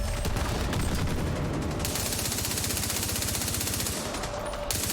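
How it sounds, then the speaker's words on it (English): An assault rifle fired indoors in a video game, heard as long sustained automatic bursts with a fast, even rattle that echoes off the walls, nearly continuous and close. "my AR is sounding very different to what it did"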